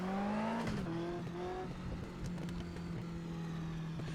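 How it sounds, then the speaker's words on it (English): Race car engine in the Automobilista sim racing game, revving up through gears with quick shifts then holding a steady high drone, with faint tire and track noise underneath. "this sounds so similar to the Legends cars, which use a Hayabusa engine"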